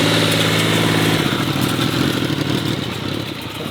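A motorcycle engine, throttle opened through a makeshift roadside throttle-cable fix, idles with a clattery putter and then rises in revs, loud and close, with no talking.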